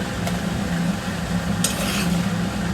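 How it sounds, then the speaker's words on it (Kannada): Pasta tipped into a hot pan of masala, giving a steady close sizzle with light stirring scrapes and a couple of brief metallic clinks, no voices. "ಇವಾಗ ನಾನು ಪಾಸ್ತಾನ ಸೇರಿಸ್ತೀನಿ"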